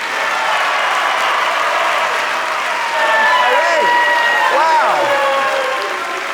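Live audience applauds and cheers as Kansas City Chiefs head coach Andy Reid arrives, a steady full-volume wash of clapping that swells midway, with an excited voice talking over it.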